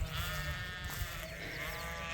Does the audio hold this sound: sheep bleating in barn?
yes